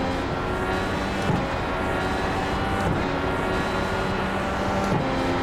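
A Dallara IR-18 IndyCar engine in the iRacing sim game, a steady high-pitched drone held at constant revs with a few brief pitch dips as gears change, continuous and loud with no talking.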